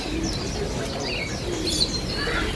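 Many pigeons coo softly in a crowded bird shop while other birds chirp and tweet sharply overhead, forming a dense, continuous near-field chorus.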